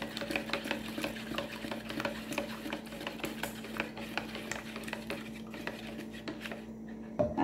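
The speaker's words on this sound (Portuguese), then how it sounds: "Vou mexer para misturar bem o álcool e o óleo." A utensil stirs alcohol and vegetable oil together in a container for homemade soap, giving steady rapid scraping and clinking against the sides under a low hum, close and continuous.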